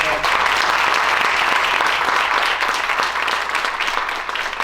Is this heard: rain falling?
no